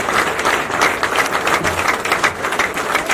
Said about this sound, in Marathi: टाळ्या वाजवून स्वागत करा प्रदेशाध्यक्षांचं.